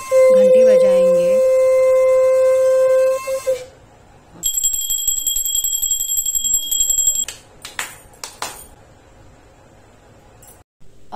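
Janmashtami puja at home: a conch blown in one long, loud, steady note, then a small bell rung with bright sustained tones, followed by a few sharp separate strikes.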